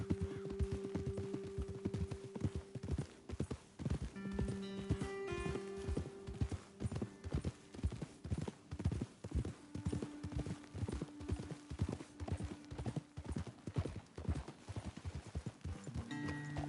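Horse hooves clip-clop steadily in a rhythmic walking gait from Red Dead Redemption 2, several horses close by on a trail, with occasional snorts and a low background hum.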